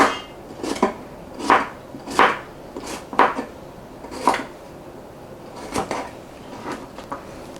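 Knife slicing cucumbers for bread and butter pickles on a cutting board, a series of about ten crisp, irregularly spaced chops and thuds, close and fairly quiet, with no talking.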